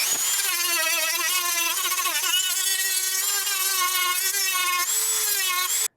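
Continuous high-pitched whine of a small rotary power tool trimming a plastic tab on a 2015 Yamaha FJ09 part, steady and loud throughout, the pitch wavering slightly as it bites, then cut off abruptly.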